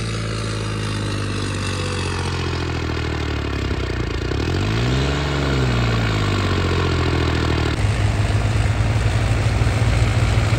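A New Holland 3630 tractor engine runs loud and close, idling with a clattering rumble and then revving, its pitch swelling and dropping before settling into a steady higher throb.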